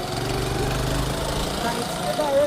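A motorbike engine drones steadily while climbing a steep uphill track, a sustained mid-distance hum with slight pitch rises, and people talk over it.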